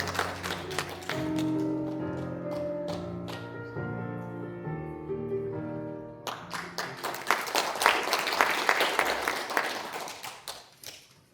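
Audience in a National Assembly conference hall applauding to welcome a Buddhist speaker at a memorial rally, clapping mixed with sustained organ-like music, then a louder burst of dense clapping building near the end.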